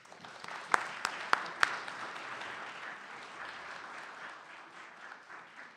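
An audience in a lecture hall applauds to welcome Professor Allen Guelzo, a steady wash of many hands clapping with a few sharp close claps near the start, slowly tapering off.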